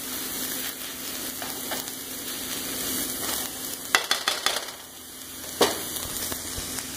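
Chopped vegetables for stuffed peppers fry in a hot pan with a steady close sizzle, broken by a few sharp scraping clatters as they are stirred and spread out.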